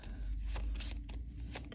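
A deck of playing cards for the Marvel Champions card game is shuffled by hand close up, giving a run of quick riffling, crackling bursts with brief pauses between them.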